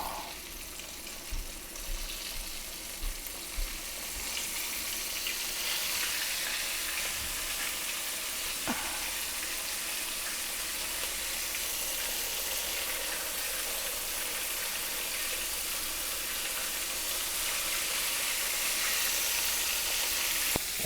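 Chicken wings dusted with paprika and black pepper frying in a generous amount of oil, giving a steady, bright sizzle that holds without pause, with a few faint knocks early on.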